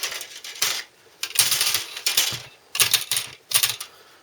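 Hard plastic parts from a Hasegawa P-51D model kit tapped and clicked together, giving several separate bursts of sharp, bright clatter with short pauses between them, close up and with no voices.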